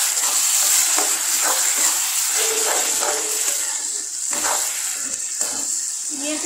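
Spices and tomato sizzling in a pan while desi-style Maggi is made, a steady frying hiss with occasional stirring scrapes, close and continuous.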